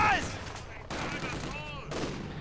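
Machine gun fire in the strategy game Company of Heroes 2 comes as loud sustained bursts of rapid shots with short breaks, mixed with other battle noise.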